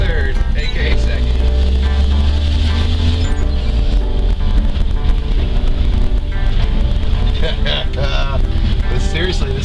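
A rusty Chevy K20 truck drives with a loud, low engine drone that surges as gears shift, rumbling steadily and close with wind buffeting, while a person talks over it.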